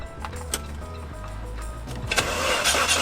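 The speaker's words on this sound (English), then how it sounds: "when I try and start it" Saab 900 Turbo with a drained battery: a starter cranks haltingly with clicks and low whirring, then the engine fires and catches, rising into a louder running roar close by.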